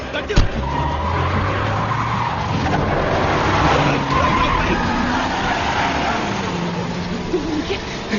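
A jeep speeds off with tires skidding and squealing, engine roaring close by amid a tense escape, while voices shout over the screech throughout.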